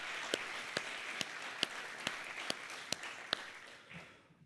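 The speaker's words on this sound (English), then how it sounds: "how about if you join me in a round of applause for what they've done to support this?" Scattered audience applause at a WWII Studies graduate celebration at a museum, a moderate spread of hand claps with a few sharper individual claps standing out, fading away near the end.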